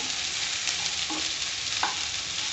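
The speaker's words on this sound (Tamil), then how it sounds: "இப்படி கிண்டி விட்டுக்கோங்க நல்லா அந்த எண்ணெயிலேயே வந்துட்டு வதங்கணும்" Half a kilo of okra (ladies finger) sautés in oil with a steady, close sizzle and a few soft scrapes as it is stirred around the pan, with no talking.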